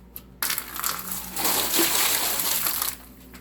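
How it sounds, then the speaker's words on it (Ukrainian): Water poured by hand onto a freshly laid self-levelling concrete shower floor, a sudden splashing rush starting sharply and running steadily for a few seconds before easing off, close and fairly loud with no talk. "Я беру воду і зараз я от полью."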